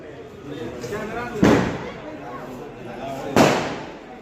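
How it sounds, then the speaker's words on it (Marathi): Two loud fireworks bangs burst a couple of seconds apart over a steady background of crowd voices and chatter at a bullock-cart race celebration in Karad, India. "फटाक्यांची आतिषबाजी पण चालू बघू शकता"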